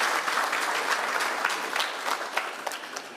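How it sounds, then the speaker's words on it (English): Sustained applause from a conference audience, dense steady clapping filling the whole moment without a break. "Another round of applause to our guest of honor"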